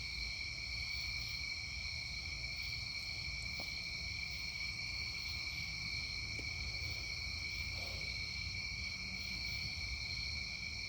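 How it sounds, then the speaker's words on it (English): Crickets chirp in a steady, high, continuous trill outdoors by a fireside, faint and distant, with no other sounds. "Crickets."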